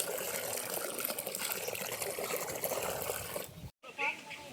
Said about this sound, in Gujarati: એમાં હું થોડુંક પાણી નાખી દઉં.